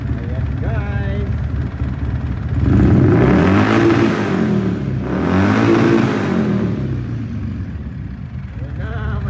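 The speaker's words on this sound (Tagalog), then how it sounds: "Tuloy-tuloy na ang ikot ng makina." The engine of a Polaris RZR 800 side-by-side runs and revs up twice in long swelling surges, then settles back to a steady drone. It is loud and close, and speech can be heard alongside.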